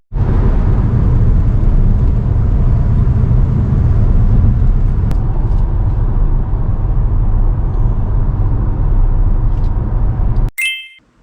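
A car travels a long highway drive between Gangneung and Pyeongtaek, heard from inside as a loud, steady rumble of engine and road noise that ends abruptly with a short electronic ding.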